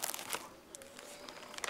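Old, badly worn paper documents from a farmers' committee crinkle and rustle faintly in close handling, with soft intermittent crackles and no talk.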